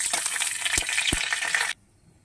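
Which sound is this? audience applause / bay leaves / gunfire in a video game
bay leaves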